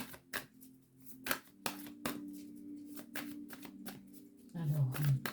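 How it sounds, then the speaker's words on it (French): Tarot cards are shuffled and drawn, giving a run of crisp, close card slaps and flicks at an irregular rhythm while a person talks throughout. "on va tirer donc 5 cartes"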